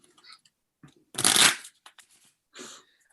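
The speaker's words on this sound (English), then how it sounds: "I'll give you one more shuffle." A deck of playing cards gets one quick riffle shuffle, a brief close burst of fluttering snaps amid soft handling noises and light taps.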